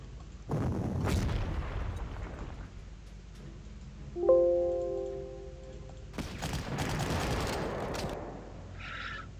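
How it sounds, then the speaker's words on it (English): Artillery barrages in the PC wargame GC 39-45 Rommel: two dense bursts of booming, rumbling fire, one early and one later, separated by a short synthetic tonal chime, with a faint crackle trailing at the end. "That's a lot of artillery for you to eat."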